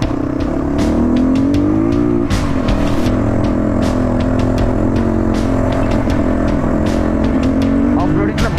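A motorbike ridden off-road on a rough hill route near Deurali, its engine droning steadily close up with shifting revs throughout, while people talk over it.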